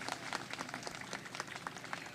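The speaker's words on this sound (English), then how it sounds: "Give them a big round of applause" An outdoor downtown crowd at the Boston Harborfest kick-off applauds a regimental pipe and drum band, a dense, fairly quiet patter of many hands clapping steadily for about two seconds.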